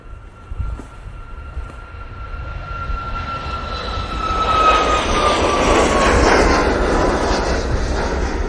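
A TUI jet airliner at Manchester Airport: the engine roar builds from moderate to loud, topped by a thin, steady whine, and stays strong and sustained through the second half.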